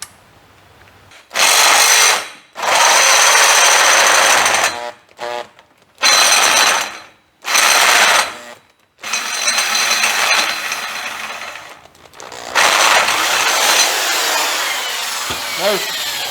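A handheld power drill boring out bolt holes on a 1940 coupe, running in several loud bursts of a few seconds each with short pauses between, then a longer steadier run near the end.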